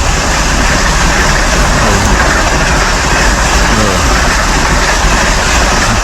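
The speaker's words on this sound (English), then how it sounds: "I'm at a railway station." Loud, steady rumble of a train rolling past at a busy station, with a constant broadband roar and faint background voices.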